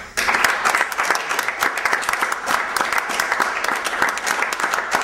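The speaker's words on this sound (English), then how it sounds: "Round of applause for our beautiful women." Sustained applause from an audience for the women at a dating-coaching event, thick and even clapping that swells quickly at the start and holds full and close to the end.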